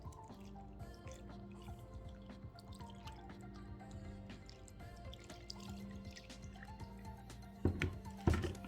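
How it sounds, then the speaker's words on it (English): Liquid bread pudding mixture pours over bread in a pot for Jamaican bread pudding, soft dripping and trickling at low level, with a few louder splashes near the end. "I'm going to pour some of the mixture on it."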